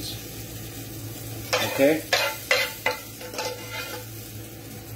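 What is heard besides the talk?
onions frying in a pan after liver and bacon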